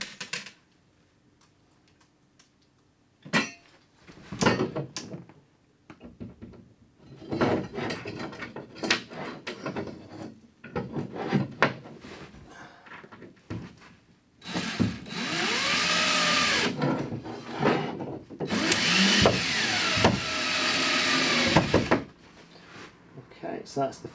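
Screw driven into a chipboard wall to hang a fixed flat wall mount for an LG OLED B9 television, with bursts of driver whirring and grinding across the clip, loud and close, separated by handling clatter and brief talk.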